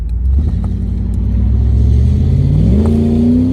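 A Pontiac Formula Firebird's engine revs under acceleration, a loud close rumble climbing steadily in pitch as the car pulls away, with no talking.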